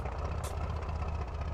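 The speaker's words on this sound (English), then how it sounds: "Engine shut down here." Piston engine of a T-34B trainer aircraft in Microsoft Flight Simulator 2024, idling on the ground after parking with a steady low rumbling throb, close and continuous, just before shutdown.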